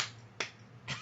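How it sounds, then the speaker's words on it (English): Two sharp, close hand claps about half a second apart, each a crisp short crack over quiet background. "man, I clap my hands a lot."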